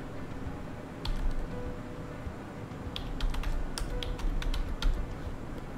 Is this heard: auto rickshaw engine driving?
no